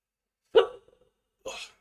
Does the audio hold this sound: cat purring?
no